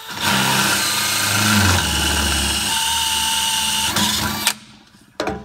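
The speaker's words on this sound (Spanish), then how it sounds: "ya hemos perforado estos cuatro materiales sin problema" A power drill whines steadily through metal for about four seconds, its pitch shifting slightly as the bit bites, then stops abruptly with a brief final burst.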